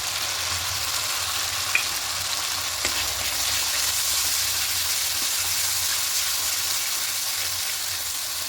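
Ginger, green chili and tomato paste fry in a pan for a vegetarian potato and pea curry, giving a steady close broadband sizzle and hiss throughout, with a couple of faint clicks of stirring and no talking.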